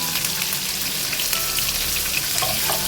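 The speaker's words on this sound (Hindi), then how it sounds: "चले अब हम इस साइड पे भी प्याज फ्राई करेंगे।" Sliced onions fry for biryani in hot oil, giving a steady, close crackling sizzle with scattered pops and no talking.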